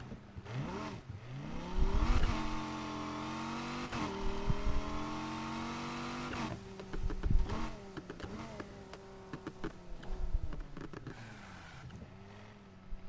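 Supercharged car engine in the racing game Need for Speed Heat, revving and accelerating with rising and falling pitch, loud and continuous throughout with several sharp shifts and bursts.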